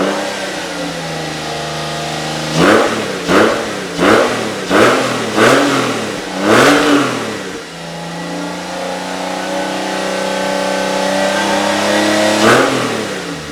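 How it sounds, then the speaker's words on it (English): A Porsche 996 flat-six, freshly back from an engine-out service, idles and then gets a run of about five quick blips of revving close by, settles to a smooth idle, and is revved once more near the end. "Just put on some headphones, close your eyes, and enjoy the Flat 6 Symphony."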